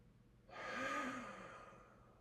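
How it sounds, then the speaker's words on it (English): A single deep, close breath drawn in during a stretching exercise for tight traps and neck, a soft airy rush that swells over about a second and then slowly fades. "Deep breath in."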